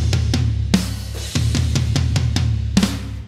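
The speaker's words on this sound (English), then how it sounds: "We got some toms," Tom drums in a metal drum mix, struck in a steady run of sharp, punchy hits with full low-end body, played alone without any talk.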